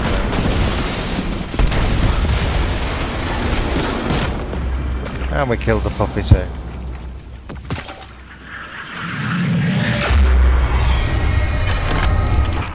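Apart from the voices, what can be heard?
explosions in video game Destiny 2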